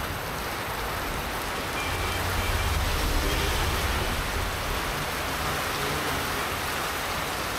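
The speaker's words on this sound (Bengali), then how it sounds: "বৃষ্টির আওয়াজ অলরেডি শোনা যাচ্ছে, প্রচুর বৃষ্টি হচ্ছে" Heavy rain pours steadily beside a highway near Feni and Noakhali, a dense, loud, continuous hiss that swells slightly midway and holds without a break.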